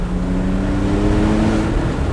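A 2019 Porsche 911 Targa 4 GTS engine in normal mode without sport exhaust, a steady loud low drone heard from inside the cabin while cruising, with no voices.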